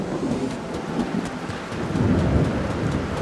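Steady heavy rain with low rumbling thunder in a video game, a dense continuous wash that swells louder toward the end, with no voices.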